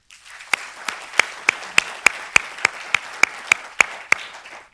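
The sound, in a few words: audience applauding faculty at graduation ceremony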